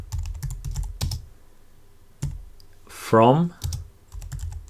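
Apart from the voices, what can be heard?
typing code on a computer keyboard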